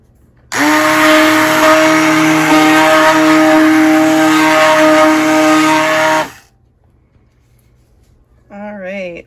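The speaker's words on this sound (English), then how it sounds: "I'm going to use my immersion blender now" An immersion blender whirs loudly and steadily through butternut squash soup for about six seconds, then stops abruptly; a brief rising whine follows near the end.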